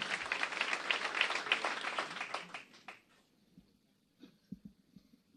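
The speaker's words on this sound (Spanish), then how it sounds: "el aplauso también para ellos" Audience applause at a democracy event in Argentina honoring human rights organizations, dense clapping for about three seconds before fading out, followed by scattered faint knocks and handling sounds.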